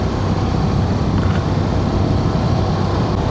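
A car driving along a scenic tree-lined road near Jejuri, a loud, steady close engine and tyre rumble that holds evenly throughout, heard from inside the vehicle.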